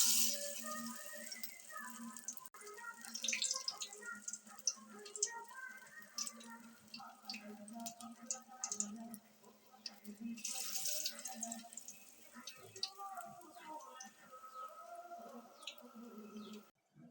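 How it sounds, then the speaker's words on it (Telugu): Ridge gourd vadas fry in hot oil, giving a steady bubbling hiss that swells into louder bursts, with tonal background sounds running throughout. "హీట్ ఎక్కిపోయింది ఫ్రెండ్స్, ఇప్పుడు మనం వడలు వేసేసుకుందాం."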